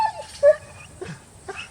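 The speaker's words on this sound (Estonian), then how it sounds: "Ära palun haukuma hakka. Kui ta nüüd häälitsema hakka." A small dog whimpers and yips in short high-pitched bursts, close by, with brief pauses between cries.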